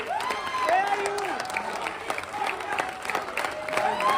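Steady crowd applause fills the space at a university Bihar Diwas celebration, dense clapping mixed with some cheering and whistles, continuous and moderately loud throughout.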